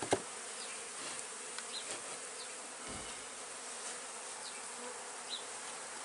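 Honey bees swarming around a package hive being installed, a dense continuous buzz close by with individual bees flying past the microphone now and then and a few light knocks.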